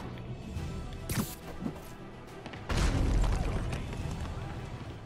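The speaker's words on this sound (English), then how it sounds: "Looks like another car bomb." A few muffled thumps, then a deep booming car bomb explosion in Marvel's Spider-Man bursts in and rumbles on heavily to the end.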